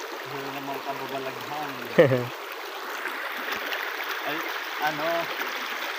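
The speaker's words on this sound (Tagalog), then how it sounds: "nandito na kami sa ilog" A river's water flows with a steady, moderate rush throughout, while a person briefly calls out over it and there is a short bump partway through.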